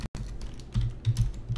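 Quick taps of typing on a computer keyboard are heard close up, a short burst of soft key clicks with a brief dropout at the start.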